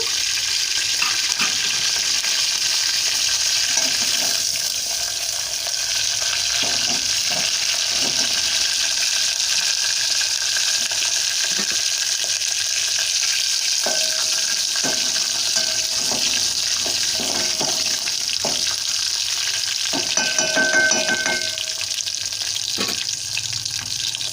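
Mustard seeds and cumin spluttering in hot oil for a tempering, a steady bright hiss peppered with sharp pops and crackles throughout, fairly close and with no talking.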